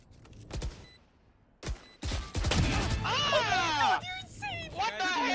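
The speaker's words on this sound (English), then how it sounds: "Placing swarm grenade." A swarm grenade in Valorant goes off amid scattered gunfire, giving a dense, loud crackling and whistling burst of sustained explosive chatter in a tense match, with excited voices talking around it.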